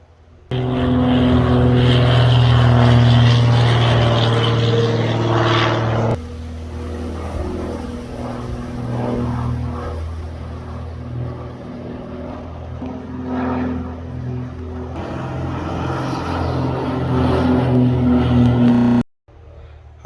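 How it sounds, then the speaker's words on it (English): Propeller aeroplane circling overhead while wild camping on the Cleveland Way, a loud droning engine that swells, eases and builds again before cutting off, with no talk. "you can hear the aeroplane, which has just gone over"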